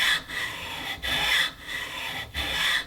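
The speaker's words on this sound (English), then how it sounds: "I finished off the slotting with the good old hacksaw" A hacksaw cuts slots into wood for a dining table, three or four even back-and-forth rasping strokes with brief gaps between them, close and clear with no talk.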